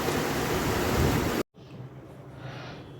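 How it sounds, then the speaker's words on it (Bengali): Heavy rain falling hisses loudly and evenly for about a second and a half, then cuts abruptly to a softer, steadier patter. "দেখো কত বৃষ্টি পড়ছে"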